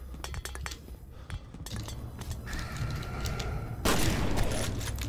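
Shotgun blasts and other gunfire in the video game F.E.A.R., a series of sharp percussive bursts at irregular intervals, followed by a denser, louder roar of fire near the end.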